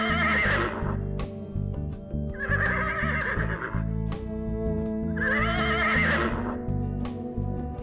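A horse whinnies three times in long, loud neighs with brief gaps between them, close by, over a layered musical background with sharp clicks.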